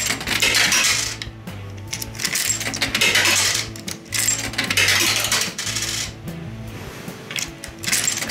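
Coins are fed one after another into a coin-operated machine in Uozu, Toyama, Japan, making repeated close metallic clinks and rattles in a steady rhythm, with no talking.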